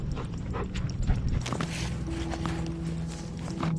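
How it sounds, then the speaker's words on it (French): A police sniffer dog barks a few times at a distance near a lake, mixed with footsteps and rustling outdoors. "J'entends le chien."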